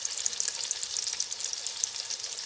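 Chicken for yakhni pulao fries in a pan with a steady, bright sizzle dotted with quick popping crackles, close and even throughout, with no speech.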